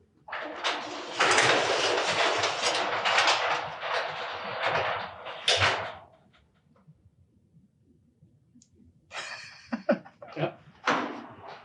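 A garage door fitted with freshly wound torsion springs rolls up with a loud, sustained rattling rumble for about six seconds. After a quiet pause it gives several shorter clanks and rumbles as it moves again.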